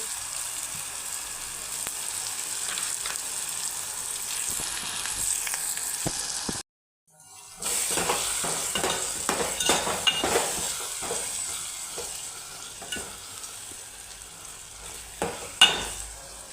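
Bharta is stirred and cooked in a pan with a continuous sizzle and repeated scraping, spoon-on-pan knocks that grow busier after a brief silent break midway.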